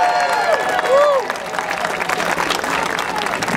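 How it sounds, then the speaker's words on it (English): Audience at a New York City Hall meeting against antisemitism breaks into broad, sustained clapping that swells and carries on steadily after a brief whistle-like tone at the start. "Another round of applause."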